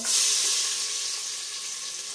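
Chopped onion and green chillies hit hot oil with a loud, dense sizzle that peaks right away and then settles into a steady frying hiss, close and alone.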